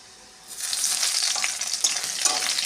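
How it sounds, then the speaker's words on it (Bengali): Onion dropped into hot oil with whole garlic cloves for potato chokha, a quiet moment giving way to a sudden loud, steady sizzle with faint stirring scrapes close by. "এখন পেঁয়াজটা দেবো।"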